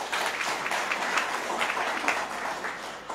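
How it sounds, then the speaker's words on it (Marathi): Audience at a society anniversary function in Borivali West applauding, a sustained wash of many hands clapping at steady loudness for several seconds, no voices over it. "त्यांच्याकरता एकदा टाळ्या वाजवूया"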